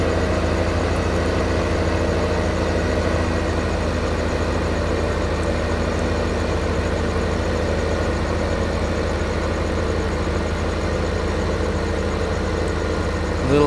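A tractor engine in the video game Farming Simulator 2015 runs at a steady idle, its low continuous drone holding unchanged and fairly loud throughout with no talking.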